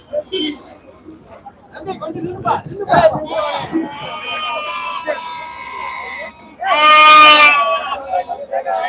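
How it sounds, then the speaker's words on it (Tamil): Lambs bleat at a Friday goat and sheep market in Ettayapuram, with one loud, close, wavering bleat near the end standing out over a steady murmur of crowd chatter and people talking nearby. "பஸ் ஸ்டாண்டு வாசலில் பார்த்தீங்கன்னா செம்மறி குட்டிகள் அதிகமாக இருக்கும்"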